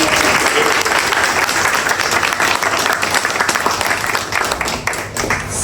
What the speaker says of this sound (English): So let us give a huge round of applause to